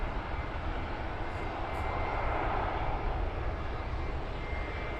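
An airplane passes overhead near Luton Airport, a broad, steady engine roar that swells slightly toward the middle, heard from outdoors with no talking.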